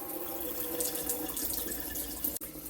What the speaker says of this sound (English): you'll want to turn on the hot water and let it run for 5 minutes